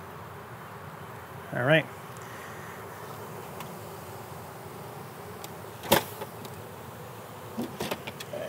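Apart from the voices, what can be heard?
honeybees in an observation hive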